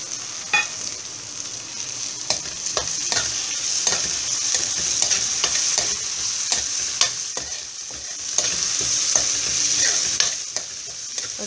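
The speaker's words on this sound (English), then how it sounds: "Again, let it all get fried nicely." Onions and tomatoes fry for pav bhaji, a steady bright sizzle with frequent spatula scrapes and taps at an irregular pace, close up and uninterrupted by speech.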